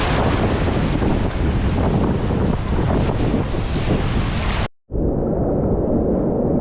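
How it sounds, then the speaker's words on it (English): Big ocean waves break along the beach at Wildwood Crest, New Jersey, a loud, continuous roar of surf mixed with heavy wind buffeting the microphone, with one brief dropout near the end. "Waves are getting big, bro."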